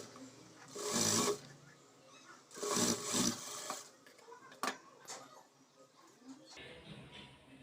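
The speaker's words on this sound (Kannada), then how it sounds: "ಈಗ ಮೇಲೆ ಒಂದು ಸ್ಟಿಚ್ ಹಾಕ್ಕೊಳ್ಳೋಣ." A sewing machine stitches the front lining of a blouse in two short whirring bursts, with quieter handling sounds between them.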